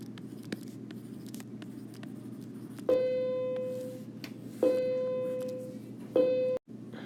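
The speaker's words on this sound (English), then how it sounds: "That was the bell." A school bell or electronic chime rings three times over a low background hum, with each sustained tone fading out slowly before the next starts.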